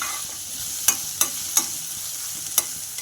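Vegetables stir-frying on a high flame for veg fried rice, with a steady bright sizzle and four sharp spatula scrapes against the pan, close and clear with no talking.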